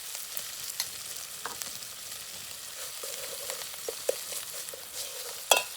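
Ginger garlic paste frying in a pan for a tomato curry, a soft continuous sizzle with scattered crackles and pops and one sharper spatter near the end, heard up close with no talking.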